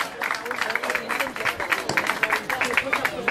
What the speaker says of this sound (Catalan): un aplaudiment, va